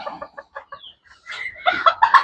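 Japanese bantam chickens in a netted coop cluck in a run of short, close, evenly spaced notes that grow louder and busier toward the end.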